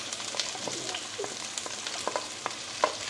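Chopped garlic, green chili and ginger fry in a pan with a soft, steady sizzle, broken by scattered spoon clicks and scrapes as the mix is stirred, with no talking.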